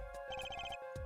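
A cell phone rings in Apollo Justice: Ace Attorney, a short electronic trilling tone that repeats rapidly and sounds clear and close with no voices.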